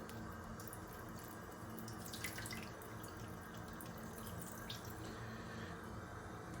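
Clean water steadily pours and splashes over a shoe sole while it is rinsed of dog poop, a continuous close running-water wash with faint drips and no talk.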